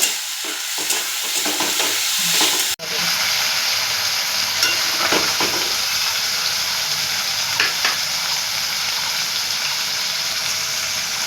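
Taro stolons and shrimp being stirred in a frying pan after turmeric and salt go in, a steady close sizzle with scraping and stirring strokes throughout, no talking.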